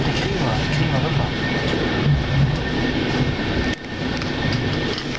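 Continuous loud rumble of a DB class 218 diesel locomotive hauling N-coaches, slowing into a main station, with a dense steady roar and a brief drop partway through; voices talk over it.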